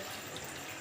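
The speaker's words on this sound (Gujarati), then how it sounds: "પાણી થોડું કાઢી નાખીએ આપણે" Brief, steady splash of water being poured off, close and moderately loud throughout.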